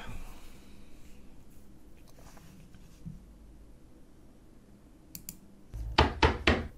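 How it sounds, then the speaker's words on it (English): Someone knocks on a home door in three quick, loud raps near the end, after a long stretch of quiet room noise with a few faint clicks. "Someone's knocking at my door"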